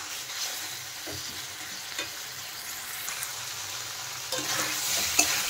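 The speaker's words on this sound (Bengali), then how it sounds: "মশলার সাথে কিন্তু আলু ফুলকপি কিন্তু ভালো করে কষিয়ে নিতে হবে" Potato and cauliflower sautéing with spices in a pan for a vegetarian dish, a steady soft sizzle and frying hiss with occasional stirring scrapes, close and continuous, with no talking.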